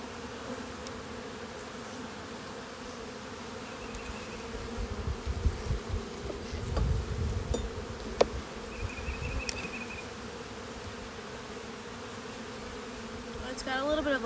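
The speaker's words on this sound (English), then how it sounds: "There's a lot of bees down in there." Honeybees drone steadily inside a hive box, a close, continuous buzz with swelling and fading layers and occasional light clicks and knocks, no talk.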